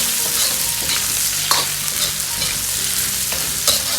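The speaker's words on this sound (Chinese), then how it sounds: "把香料煸炒出香味。" Spices being stir-fried in oil with scallion and ginger in a wok while braised pork belly is cooked: steady loud sizzling with scraping stir strokes now and then, close and without talk.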